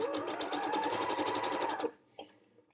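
A sewing machine runs a fast zigzag stitch over couched embroidery strands, a loud, close, rapid mechanical whir that stops abruptly. A faint clunk follows in the quiet.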